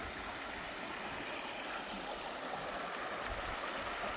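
A forest stream flows along a forestry track high in a valley near a reservoir, a dense, steady rushing and burbling of water, close and continuous with no voices.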